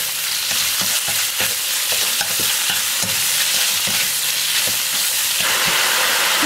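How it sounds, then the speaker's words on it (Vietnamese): Beef stir-fries in a pan over high heat, a loud, continuous sizzle and hiss with frequent clinks and scrapes of stirring throughout, no voices. "Và mình sẽ xào thịt bò với lửa lớn nha các bạn."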